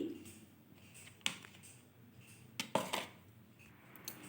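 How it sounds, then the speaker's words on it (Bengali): Semolina and sour yogurt being mixed in a bowl give soft scraping and several clinks of a spoon against the dish, quiet and close, with sparse irregular knocks. "এবার ভালোভাবে সুজি আর টক দইটা মেখে নেব।"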